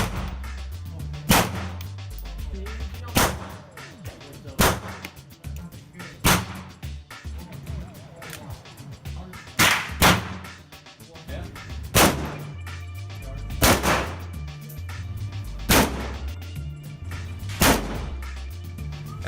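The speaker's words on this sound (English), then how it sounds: "while we were at the range, we also decided to test out some other guns we had" Guns fired at a shooting range, about a dozen loud, sharp reports spaced irregularly a second or two apart, each with a short echoing tail over a low background rumble.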